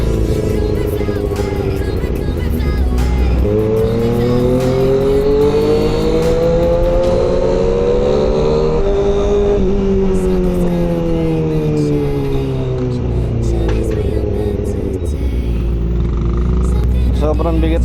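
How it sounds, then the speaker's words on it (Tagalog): A motorcycle riding through heavy road traffic, its loud engine droning and rising and falling in pitch as it throttles and passes vehicles, with constant wind rumble throughout. "Sobrang bigat ang trapiko."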